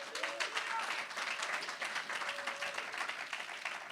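A church congregation claps in a round of applause, a fairly soft, dense patter with some voices mixed in.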